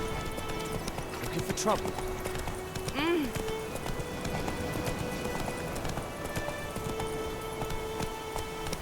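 Geralt's horse Roach in The Witcher 3 goes by with steady hoof clip-clops under game ambience, with short whinny-like cries and a brief line of spoken dialogue over it.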